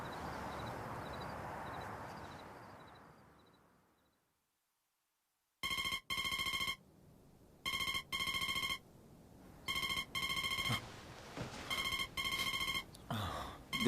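Telephone ringing in repeated bright electronic bursts with short gaps, clear and close, after a fading stretch of noise and a moment of silence.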